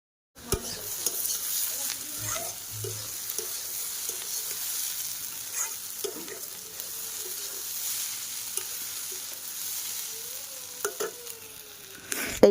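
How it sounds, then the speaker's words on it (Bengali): Potatoes frying in a pan in a home kitchen, a steady close sizzle with scattered stirring scrapes and clinks throughout, growing busier near the end, with no talking. "এখন কিন্তু আলু ভাজাটা করে নিচ্ছি"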